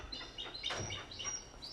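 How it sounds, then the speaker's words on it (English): Small birds chirp outdoors in a quick series of high, thin tweets and trills, fairly faint against a quiet background, with no voices. "birds are so fucking annoying"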